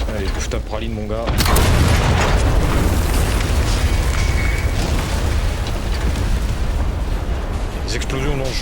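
Loud, booming explosions from the video game Sand, rolling in as one sustained blast after a brief burst of talk and continuing as a dense, rumbling roar to the end.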